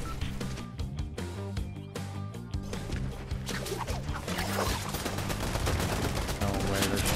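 Video game gunfire, dense rapid bursts of shots crackling close and loud almost without pause, mixed with overlapping fire and in-game noise.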